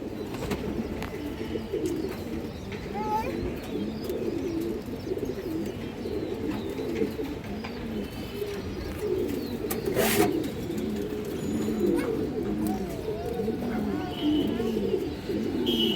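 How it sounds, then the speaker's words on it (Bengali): Fancy pigeons, including a brown-necked pair, coo in soft repeated low rolls throughout, with occasional faint voices in the background. "কবুতরগুলো দর্শক খুবই চঞ্চল যার কারণে দেখেন ভালো দাঁড়ায় না"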